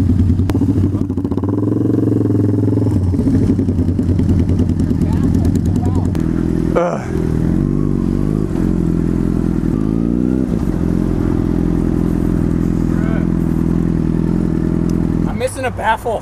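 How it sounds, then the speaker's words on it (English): A Harley-Davidson V-Rod motorcycle rumbles loudly after its exhaust baffle blew out while riding in Fresno, a deep, continuous engine roar with a brief clatter midway and voices talking over it. "Something just happened to my bike, it's a lot louder now."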